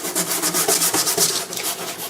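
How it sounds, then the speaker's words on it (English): A wire brush scraping old material off a plastic door panel of a 2001 Lexus IS300: rapid, rhythmic, close rasping strokes with an even back-and-forth rubbing texture and no talk. "you could use a wire brush and try to scrape everything off"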